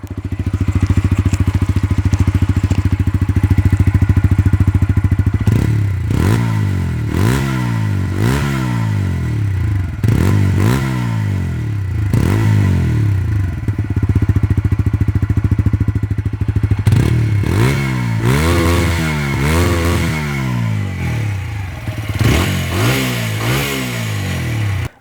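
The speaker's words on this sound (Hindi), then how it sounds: "आपको MT-15 से भी बढ़िया साउंड इस बाइक से मिलेगा।" A 2024 TVS Apache 160 4V motorcycle engine idles with a steady, throaty rumble, then is revved repeatedly in sharp rising bursts, loud and close.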